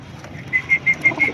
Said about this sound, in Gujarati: એ કબૂતર